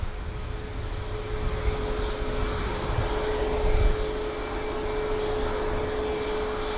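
Airliner departing from runway 23 left at Manchester Airport, a steady distant roar of jet engines with a constant whine, swelling slightly midway, alone without talk.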